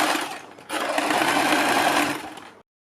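A sewing machine stitches along a suit neckline right beside the buckram, a brief hum followed by a steady fast run of about two seconds that stops abruptly; close and loud, without speech.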